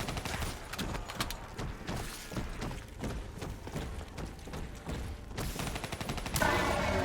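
Rapid, dense gunfire fills the Call of Duty Shadows of Evil zombies map, loud bursts of automatic shots running steadily, then a heavier blast near the end.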